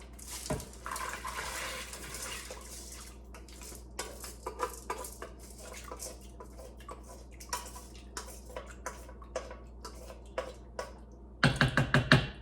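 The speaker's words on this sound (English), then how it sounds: "So now I'm gonna add those 2 cups of rinsed beans" Two cups of rinsed beans tumble into a soup pot, a run of close clattering taps and small knocks against the pot, scattered then bunching into a louder burst of clinks near the end, with no talk.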